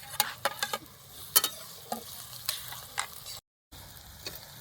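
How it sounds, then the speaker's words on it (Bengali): Onion and green chili fry in a pan at a night-time picnic, a steady close sizzle broken by scattered clicks and scraping taps from stirring, with one brief dropout near the end. "তো আমরা পেঁয়াজটাকে আর মরিচটাকে মিডিয়াম ভাবে ভেজে নেব"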